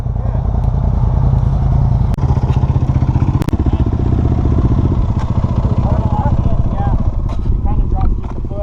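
Many motorcycle engines idle and rumble at a large gathering of motorcyclists, a dense throbbing drone with sharp clatters and revs close by, while people talk under it.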